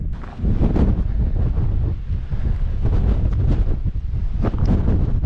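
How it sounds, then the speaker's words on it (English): Strong gusting wind at the rim of a desert basin, battering the microphone in loud, rumbling buffets that surge and ease throughout, with no voices. "Oh, it's windy."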